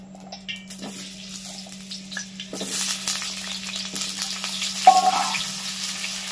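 Large potato chunks fry in a pan, a soft sizzle that grows denser after a couple of seconds, with a low steady hum underneath and one brief clink near the end.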